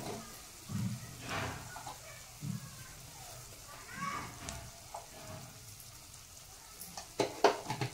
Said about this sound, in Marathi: आता मसाला चांगला फ्राय झालेला आहे